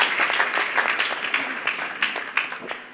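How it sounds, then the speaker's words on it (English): Worshippers at a church service clap together for Jesus, a loud, fairly rhythmic round of many hands with distinct beats that stays strong throughout and tapers slightly at the end. "Let's clap for Jesus Christ."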